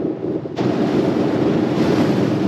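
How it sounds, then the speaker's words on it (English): Strong wind roars and buffets against the microphone, a steady broadband rush that swells suddenly and stays loud and continuous. "And it's windy."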